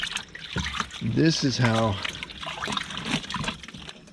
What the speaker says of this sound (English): You take it right out of the dirty water and put it in the spinner.